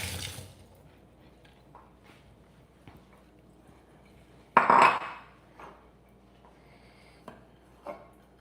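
A bowl being rinsed in a kitchen: a short burst of running water splashes for about half a second, with faint clinks of dishes before and after in an otherwise quiet room.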